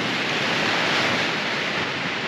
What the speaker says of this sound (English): Windy. I don't know if you can see how choppy the water is.